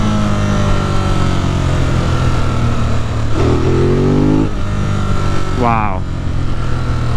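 Riding a 2018 Ducati Monster 821 through city traffic, the engine drones loudly and then climbs through two sharp accelerations with a gear change between them, plus rushing wind and a brief exclaimed word from the rider.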